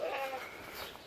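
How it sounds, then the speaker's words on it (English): A goat on a farm gives a short bleat at the start, followed by softer bleating and animal noise over a brief stretch, heard fairly close. "I'll probably breed these goats again this year to Jack"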